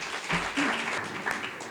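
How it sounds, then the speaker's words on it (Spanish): A brief patch of audience applause at a short-novel award ceremony, scattered clapping with a few voices rising through it. "Pido un fuerte aplauso para ellos."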